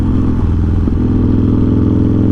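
A Harley-Davidson Dyna Low Rider S with a 110 Twin Cam engine runs close by, its loud, steady low rumble holding throughout with a brief clattering shift partway through.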